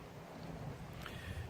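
Wind buffets an open outdoor spot on an overcast, high-50s day at a farm, a steady low rumble of gusts hitting the microphone throughout.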